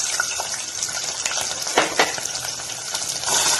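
Onion frying in groundnut oil with fenugreek in a pan, a steady close sizzle with a couple of brief bursts of crackle midway.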